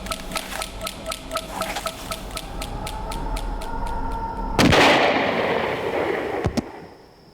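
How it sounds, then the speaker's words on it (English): Gunfire in a dramatized staging of the Nepal royal massacre: a fast run of sharp, evenly spaced shots, then a loud close blast with a crackling tail and two more sharp cracks near the end. "A single bullet to the side of his head brings Crown Prince Dipendra to the ground and an end to the violence"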